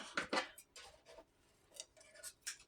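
Scissors snip paper several times in quick, uneven bursts while making a paper bag, close and quiet, with faint rustling between cuts.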